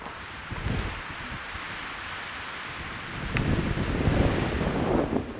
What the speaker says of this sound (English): All right, so it's so windy.